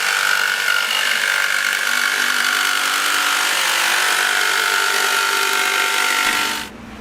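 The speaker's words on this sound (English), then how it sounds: "I'm just going to cut that out with a jigsaw" A jigsaw cuts along a marked line in a part for a Honda Sabre cafe racer project, a steady buzzing whine with a sustained tonal hum that runs without pause, then cuts off near the end.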